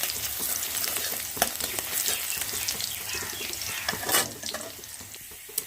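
Crushed garlic frying in hot mustard oil in a pan, a steady close sizzle with scattered pops and scraping stirs, a couple of louder clatters near the end; no voices.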